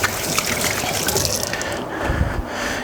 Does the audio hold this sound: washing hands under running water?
yes